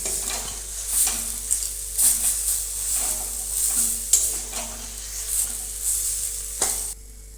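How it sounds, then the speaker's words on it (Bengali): Boiled potato, already mashed, is worked by hand into a green kebab mixture, giving soft, squelchy stirring pulses about once a second, close and steady, with no talk. "যে আলুটা আমি সিদ্ধ করেছিলাম সেটা চটকে নিয়েছি, এটা দিয়ে দিচ্ছি। এটাও এর সঙ্গে মেখে নেব।"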